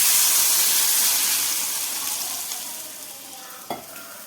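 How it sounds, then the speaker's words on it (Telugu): Water poured into a hot pan of cooked peanuts for upma, starting as a loud steaming sizzle that slowly fades, with a small clink near the end. "వాటర్ యాడ్ చేసుకున్నాను ఫ్రెండ్స్"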